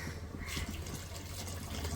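Mutton cooking broth is poured from a vessel onto jeeraga samba rice for biryani, a soft continuous liquid splash and trickle heard up close for about two seconds.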